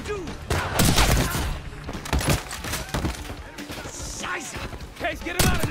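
Gunfire in Call of Duty: Black Ops 6 multiplayer, rapid bursts of shots and impacts with thuds and breaking debris, loud and dense, with game voices mixed in over the battle.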